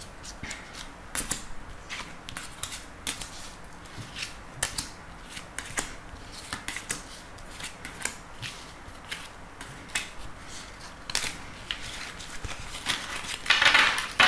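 Oracle cards being shuffled and drawn for a reading: soft, close papery riffles and flicks in scattered bursts throughout, with no speech.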